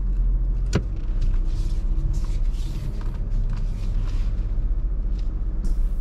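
A car reversing into a 45-degree parking bay, a low steady engine rumble close by, with a sharp click early on and faint mechanical thumps and rattles over the idle.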